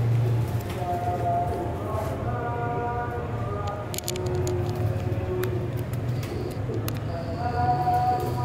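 Saudi pigeons coo in low, steady, repeated phrases close by, with a faint background rumble and occasional higher chirps over a continuous murmur.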